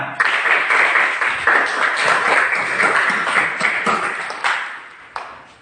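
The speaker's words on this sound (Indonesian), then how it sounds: "Ya, beri aplaus kepada teman kalian." A classroom of students claps for a classmate, loud, dense applause with individual claps audible, lasting about five seconds before thinning out.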